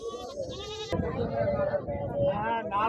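A goat bleats, a wavering nasal cry close by, while people talk over and around it at a weekly livestock market in Husnabad.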